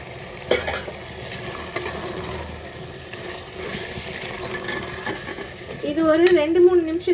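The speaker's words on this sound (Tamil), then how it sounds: "இப்போ வந்து நம்ம இந்த தேங்காவையும் சேர்த்து வதக்கிக்கலாம்" Chicken sautés with a ground coconut and poppy-seed masala paste in a pan for chicken kurma. Steady sizzling and stirring scrapes run throughout, swelling louder near the end, where a brief tonal voice-like sound also rises.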